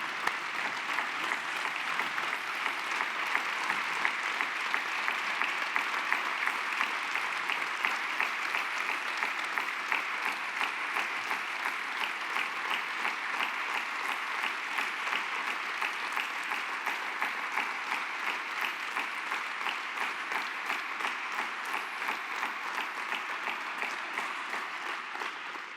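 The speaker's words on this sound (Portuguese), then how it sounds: "uma grande salva de palmas para Domingos Ferreira" Long, sustained applause from a large crowd at a political party congress opening session, a thick steady roar of clapping that carries on evenly for over twenty seconds.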